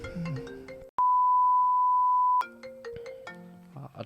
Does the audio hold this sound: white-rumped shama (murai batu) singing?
no